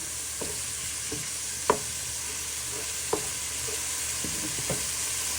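Pork mince frying in a pan, a steady, quiet sizzle with occasional scraping clinks of a utensil as it is stirred, a sharper knock near the middle.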